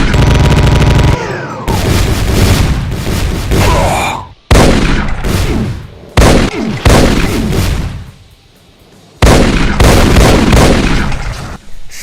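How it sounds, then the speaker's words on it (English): Heavy spreads of Demon Tech rifle shots from a Doom mod blast in loud, dense volleys, broken by brief gaps and one quieter stretch before the barrage resumes. "heavy spreads of Demon Tech rifle shots"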